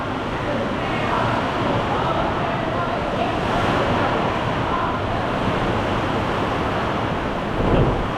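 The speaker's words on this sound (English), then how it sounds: "Oh, the wind's blowing." Steady wind blusters across a roadside stop in the open, a loud broadband roar with gusts and buffeting against the microphone, constant throughout with a brief low thump near the end.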